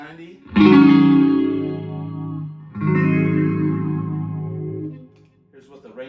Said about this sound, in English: A little bit of phase 90.